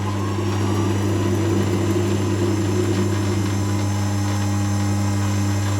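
A D250V lathe running with a mild steel workpiece, a loud, steady mechanical drone with a strong low hum that holds even throughout.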